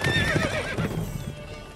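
Galloping hooves clip-clop quickly as a horse whinnies in The Witcher 3 video game, loud and close, the neigh rising over the hoofbeats before fading.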